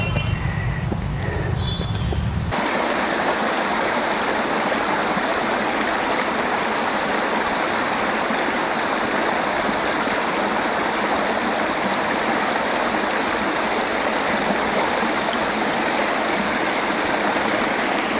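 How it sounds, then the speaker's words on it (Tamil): A forest stream flows steadily beside a trail, a loud, continuous rush of water that fills the whole scene; a brief burst of other noise opens it before the flowing water takes over alone. "என் பின்னாடி இந்த ஓடை, அப்படியே அந்த சவுண்டை கேட்டுட்டு அப்படியே உட்காந்துருக்கேன்."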